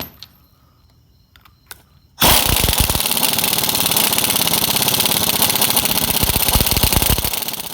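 After a quiet start, a loud rattling impact gun hammers a nut tight on a Jeep bar pin eliminator bracket in one long, close burst.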